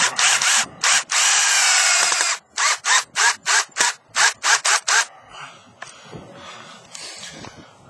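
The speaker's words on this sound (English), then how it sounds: "I pre-drill again so it won't crack, split out the wood" A power drill pre-drills wood for a ranch fence rail in a long burst, then a rapid series of short pulsed runs, followed by quieter rustling and handling noise.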